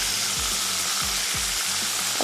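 Beef seekh kebabs fry in a hot pan, giving a steady, loud sizzle with soft, regularly spaced thuds as they are turned and browned on all sides; no one speaks.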